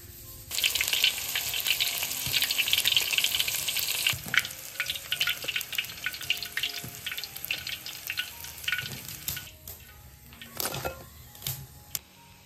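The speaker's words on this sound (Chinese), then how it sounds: "油热了，就换小火，慢慢煎，" Battered pork strips deep-frying in hot oil over low heat, a loud continuous sizzle and crackle that gradually thins into scattered pops, with occasional clinks of stirring.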